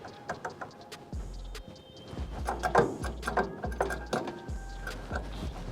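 Hand-pumping of a NugSmasher Mini rosin press to close its plates, a series of mechanical ratcheting clicks with low thumps at a steady pumping rhythm, close and fairly quiet.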